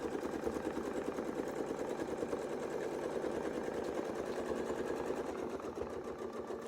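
A sewing machine runs one long, unbroken line of stitching, its needle chattering in a fast, even rhythm that stays steady and fairly quiet throughout.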